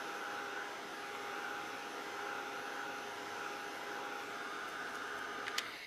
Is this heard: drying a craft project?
yes